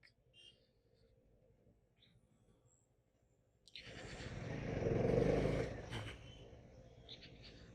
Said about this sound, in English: see the traffic